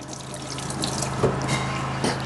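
Hot water pouring into a container in a home kitchen while rye bread is being made, a continuous splashing trickle, close and moderately loud, with faint clinks over a low hum.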